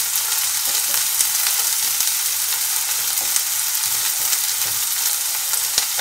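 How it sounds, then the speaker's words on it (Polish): Chopped onion fries in a pan until golden, giving a steady, dense sizzle and crackle that runs unbroken throughout with no voices. "Cebulę smażymy na złoty kolor."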